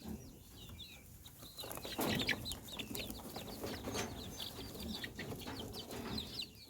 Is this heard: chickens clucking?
yes